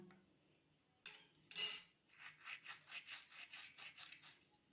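Carom seeds being rubbed by hand into mashed potato for bread pakora filling: a quick sharp scrape, then a steady rhythmic series of soft gritty rubbing strokes, close and fairly faint, with no talking.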